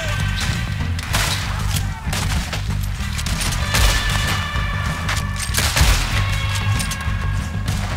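Gunfire in Red Dead Redemption 2, dense and continuous cracks and booms over a rumbling low backdrop, loud and close, with a player's voice now and then.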